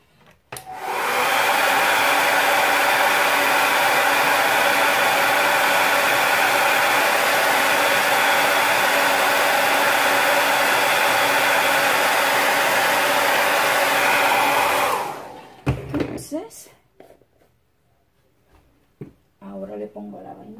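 A hair dryer blows on drying paint with a loud, steady whooshing roar for about fifteen seconds, then shuts off, leaving light handling clatter and quiet moments.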